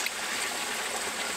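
Steady rush of clean stream water flowing at a waterfall, a dense continuous wash heard up close with no voices.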